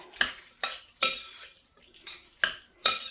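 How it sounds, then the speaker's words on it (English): A spoon clatters and scrapes against a bowl as eggs and onions are stirred into a mashed potato or macaroni salad, in six sharp, evenly spaced strokes close by with quiet gaps between. "I'm going to put the eggs, the rest of those eggs, the rest of the onions, and stir that up"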